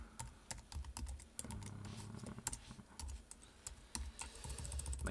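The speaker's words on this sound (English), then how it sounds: "My typing is really bad." Rapid, uneven keystrokes clatter on a computer keyboard, close and fairly quiet, in bursts with short pauses, over faint room hum.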